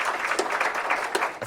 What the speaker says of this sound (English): Cheers and claps